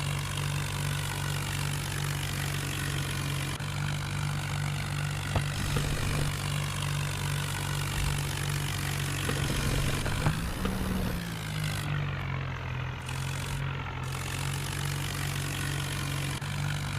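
A tractor engine in the Indian Vehicles Simulator game hauls a heavily loaded trolley with a steady, low droning hum that holds throughout and briefly shifts pitch partway through, with no voices over it.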